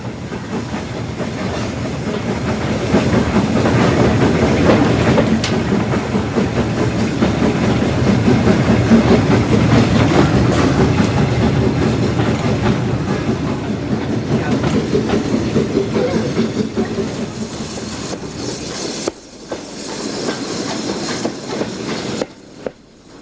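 A narrow gauge steam tank locomotive hauls a well-filled local train in Spain, a steady, loud rolling rumble with wheel clatter and hiss that fades near the end.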